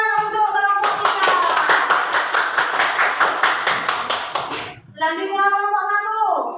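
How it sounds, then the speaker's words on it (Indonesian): A class of children claps together for their group in a school classroom, dense rhythmic clapping for about four seconds, then children's voices chatter after it stops. "Tepuk tangan untuk kelompok kita."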